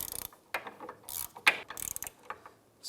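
A hand ratchet with a 15mm socket snugs down the nut on a sway bar link of a 2005-2007 Ford 500, giving several short, close, crisp clicking bursts separated by brief pauses.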